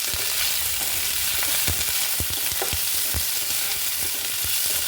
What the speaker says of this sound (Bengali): তো এটাকে ভালো করে ভাজবো।